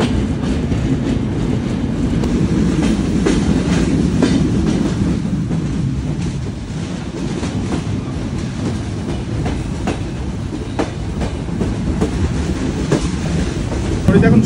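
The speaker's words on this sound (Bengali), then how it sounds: "এই মুহূর্তে আমাদের ট্রেন স্কিপ করবে রূপদিয়া স্টেশন" On board the Ruposhi Bangla Express near its AC coaches, the train runs on the tracks with a loud, continuous rumble and rhythmic clickety-clack of the wheels from start to finish.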